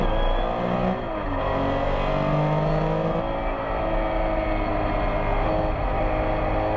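Porsche race cars running nose to tail in a vintage race at the Rennsport Reunion, heard as a continuous, loud, layered engine drone with shifting pitch as they accelerate up the start-finish straight.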